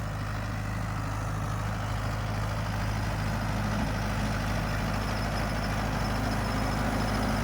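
A Mahindra Yuvo Tech Plus 585 4WD tractor engine running at about 1700 to 1800 rpm while working in a muddy field, a steady loud low diesel drone that holds unbroken throughout.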